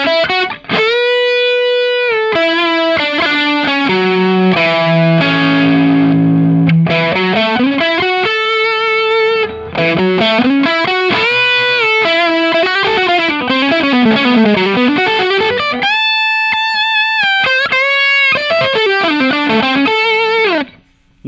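Electric guitar played through a Matero effects pedal with its color control engaged, a distorted, chorused lead of sustained notes and sliding bends, loud and continuous with brief gaps, no talking.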